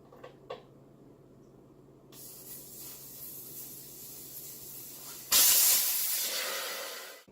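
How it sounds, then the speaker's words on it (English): Air bursts loudly out of a car tire through its opened valve, a strong steady hiss that starts abruptly near the end and slowly tapers, following a quieter stretch of faint background noise. "this is going to make a lot of noise because the air is going to come rushing out of the tire"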